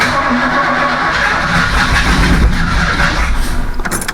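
A Ford Bronco engine with bad timing runs roughly and loudly up close, a rumbling uneven idle with irregular pulses suggesting backfiring toward the end.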